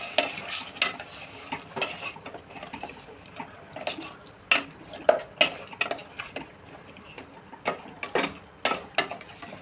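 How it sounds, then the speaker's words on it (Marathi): Marinated chicken stir-fried in a pan for home-style chicken handi: a spatula repeatedly scrapes and clatters against the metal in an irregular rhythm over a soft, steady sizzle, close and moderately loud with no talking. "चिकन आता चांगलं परतून घेऊ आपण।"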